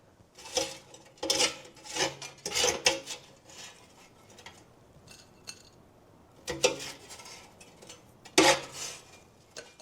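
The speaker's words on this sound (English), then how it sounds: "I'm just gonna put it on this plate" Cooked air-fried bacon scraped and set onto a plate, with several bursts of scraping, rubbing and clinking of utensil against dish, separated by brief pauses, close and fairly loud with no talk.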